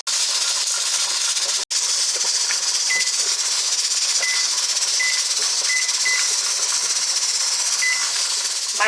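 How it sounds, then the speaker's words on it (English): Pressure canner processing potatoes at about 11 pounds, its weighted gauge rocking and letting out a steady loud steam hiss, with faint intermittent tones and a brief break early on. "The weighted gauge is starting to rock back and forth"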